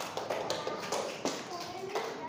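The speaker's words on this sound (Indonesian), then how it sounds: "Oke, tepuk tangan buat kita semua." Students in a classroom clap together in short, tapping bursts, with children's voices talking over the claps.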